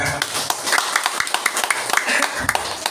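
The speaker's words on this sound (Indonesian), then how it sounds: "Biar rame tepuk tangan." A religious dzikir gathering where the congregation claps, sharp scattered claps and taps rising over a noisy room with murmuring voices, fairly loud and uneven.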